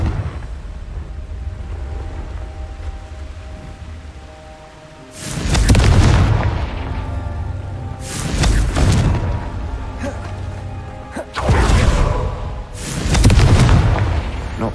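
Three loud booming blasts of the Confringo fire spell in the Hogwarts Legacy video game, each a sharp broadband burst fading over a second or two, spaced a few seconds apart over a low rumbling game background.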